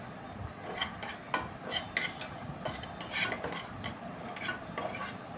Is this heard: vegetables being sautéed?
yes